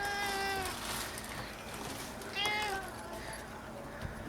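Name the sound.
stray cat meowing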